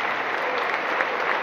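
An audience applauds after a speech at a diploma ceremony, a steady burst of clapping that fills the whole short moment.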